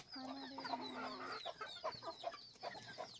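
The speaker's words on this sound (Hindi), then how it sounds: "नमिता जी इधर मुर्गी लोगों को खोलना चालू कर दिए हैं।" Several free-range desi chickens cluck and squawk in short bursts close by as they are let out in the morning, with a faint rooster-like call, busy farmyard chatter throughout.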